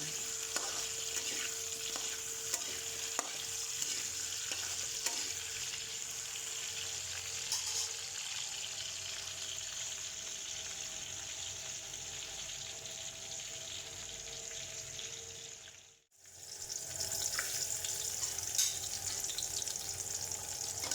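Chicken being sautéed in a pan for chicken curry, giving a steady, faint sizzle with occasional stirring clicks and a brief drop to silence near the end.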